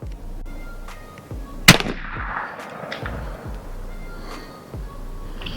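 One loud close blast from a custom 12 gauge shotgun, a sharp crack that rolls off into a fading outdoor echo, then a quiet background.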